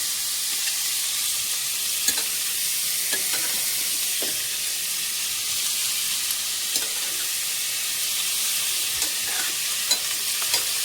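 Boiled cabbage fries in a pan, a steady close hiss of sizzling with occasional soft stirring scrapes and knocks throughout.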